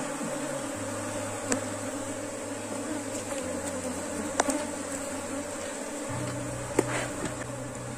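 A swarm of bees in a hive during a one-frame hive split, with a steady, close insect hum throughout, low drones rising and falling, and a few sharp knocks of handling.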